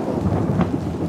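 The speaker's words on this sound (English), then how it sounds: "That's a big thunder. It's raining, there's thunder, and now there's lightning." Thunder rumbles during a rainstorm at sea, a short low roll over steady rain noise with a brief brighter crack in the middle.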